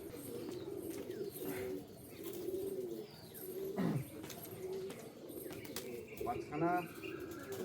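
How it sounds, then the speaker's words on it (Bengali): Pigeons coo softly near a loft cage as the birds are about to be released. Faint low coos repeat over quiet outdoor background, with a few chirps and a brief flutter. "এই 5খানা পায়রা এখন ছাড়বো"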